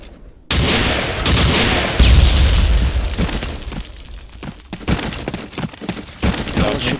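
A thrown grenade detonates in a multiplayer first-person shooter with British weapons, a sudden loud boom followed by rolling debris and crackle, then a second burst of blasts a few seconds later.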